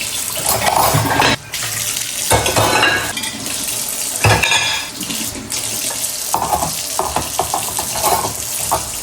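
Dishes are washed in a home kitchen sink, with running tap water, splashing and clinking of plates and utensils going on steadily throughout, close by, with brief pauses and no talking.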